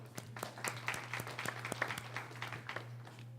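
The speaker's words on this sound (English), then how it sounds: "Let's give Sheila a round of applause" Audience at a 2014 legislative listening session gives a round of applause, a fairly thin, scattered patter of individual claps heard in a room with a steady low hum underneath.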